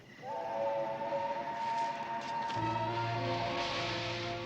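A train passes with a sustained, multi-tone whistle and a deepening low rumble as it draws nearer, heard from some distance.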